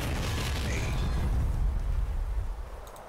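A loud, sustained blast rumbles as a holoboard is destroyed in StarCraft 2, the heavy low roar holding steady before fading out near the end.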